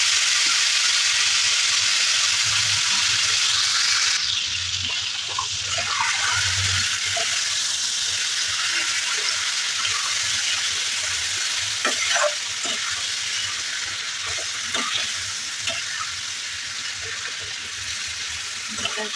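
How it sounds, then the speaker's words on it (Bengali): Country chicken frying with dried red chilli and spices, stirred in a pan: a strong sizzle that settles into softer frying with scattered scraping stir clatters, loud and close. "দিয়ে ভালো করে নাড়াচাড়া করছি, করার পর আমি মাংসটার মধ্যে দিয়ে দিলাম।"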